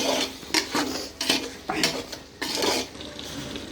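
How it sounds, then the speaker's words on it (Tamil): Biryani ingredients roasting in a pan, with repeated scraping and stirring strokes of a utensil against the metal in an uneven rhythm, close and moderately loud, a faint sizzle underneath. "நல்லா அது ரோஸ்ட் பண்ணிக்கோங்க"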